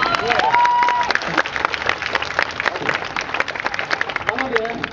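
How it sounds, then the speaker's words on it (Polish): Loud applause and clapping from a crowd at a circus-style art carnival show, steady and dense throughout with cheering voices mixed in. "wszyscy biją głośno brawo"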